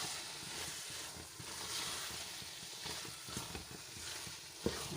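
Carrot halwa (gajar ka halwa) topped with khoya is stirred in a pan, giving a soft, steady sizzle with faint scraping strokes and a light clink near the end, with no talking.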